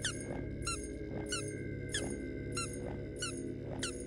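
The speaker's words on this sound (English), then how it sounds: "He sounds so cute with that squeak." A reindeer in the video game Boofie's Bunker gives repeated high squeaks, about seven evenly spaced chirps over a low steady game hum.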